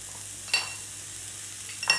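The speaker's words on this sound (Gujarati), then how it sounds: "મેથી નાખશું થોડી." A few fenugreek seeds go into a hot pan of spices for a stuffed bitter gourd curry; a continuous frying hiss runs throughout, punctuated by two short scraping bursts of stirring, with no talking.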